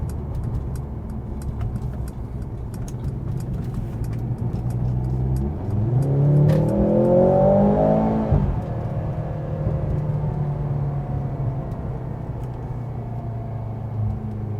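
A Mercedes-AMG C43 automatic revs up under acceleration while being driven, the engine note climbing steadily for a couple of seconds before the throttle eases back to a steady cabin rumble.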